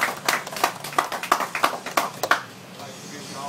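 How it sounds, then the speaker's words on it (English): An audience at a boxing press conference claps in a burst of roughly a dozen sharp, close hand claps that thin out and stop after a couple of seconds, leaving quiet room tone. "Please give him a big round of applause for Joel Castillo."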